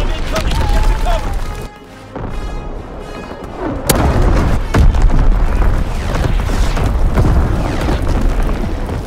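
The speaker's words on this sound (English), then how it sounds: "Incoming enemy artillery." Enemy artillery shells exploding in a Call of Duty WWII team deathmatch, loud booms and heavy rumbling blasts layered over continuous battle noise, with a sharp crack near the middle and voices talking throughout.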